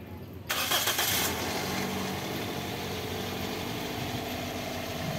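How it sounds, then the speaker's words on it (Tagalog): A Toyota Corolla Altis engine, its radiator just filled with coolant, cranks briefly and catches, then settles into a steady close idle. "papa-start ko ngayon itong makina"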